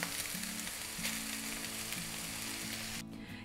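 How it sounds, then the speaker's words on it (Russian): Minced meat sizzles and fries steadily in a pan for a stuffed-mushroom appetizer, with sour cream about to be added; a continuous close crackle with faint stirring, no voices. "фарш начинает хорошо обжариваться, местами даже подрумянился"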